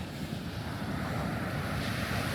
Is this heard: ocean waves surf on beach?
yes